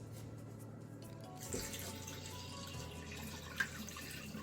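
Rinse water is poured off salmon roe from a bowl into a kitchen sink, a quiet, steady trickling splash with a single small clink partway through.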